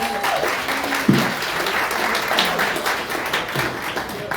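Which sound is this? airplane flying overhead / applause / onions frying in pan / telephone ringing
applause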